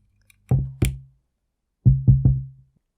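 Mini Rig 3 portable speaker powering on as an audio cable is plugged in, giving a couple of short low thumps followed moments later by three quick close pops, with no talk.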